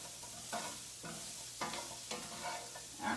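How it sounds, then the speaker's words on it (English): Vegetables being stir-fried in a darkened pan, a steady sizzle with a few scraping stirs across roughly three seconds, close up and without voices. "I'm going to hold it on my knife while I stir fry around the veggies a little more"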